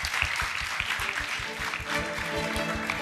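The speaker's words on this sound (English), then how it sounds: "A round of applause." Audience applause closing an open-ended question session at the USAPPS 2023 event, a steady wash of many hands clapping at close range with a faint rhythmic low thump running underneath.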